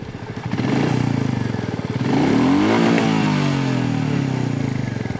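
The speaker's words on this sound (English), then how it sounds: "the new engine on the Meteor makes it quite smooth even at idle" Royal Enfield Meteor motorcycle engine running steadily near at close range, a low smooth thrum that briefly swells and settles again with no talk.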